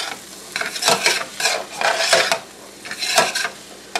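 A spoon stirs creamed corn with bacon in a pan, repeated scraping strokes in an irregular rhythm over a soft sizzle, close and moderately loud.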